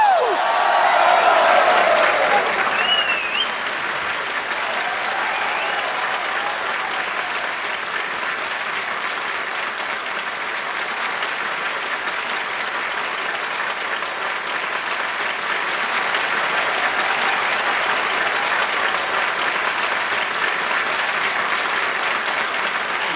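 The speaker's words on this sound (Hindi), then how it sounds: "सो जोरदार तालियों के साथ स्वागत कीजिए डॉक्टर मशहूर गुलाटी जी का।" Studio audience applause on a comedy talk show welcoming a guest doctor, a sustained, broad roar of clapping that opens with a brief louder flourish and stays steady for over twenty seconds.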